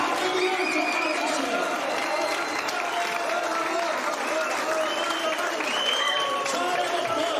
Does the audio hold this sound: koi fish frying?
no